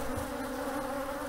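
Honey bees from a queenless colony drone steadily around their beehives, the colony having been split into two hives; the close, continuous buzz holds without a break and no voices are heard.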